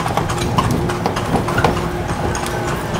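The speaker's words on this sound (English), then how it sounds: "We're in a little horse-driven carriage, I guess you call it." Horse-drawn cart rolling through the streets of Intramuros, Manila, with steady hoof clip-clops over a bumpy, rattling ride and constant street background noise.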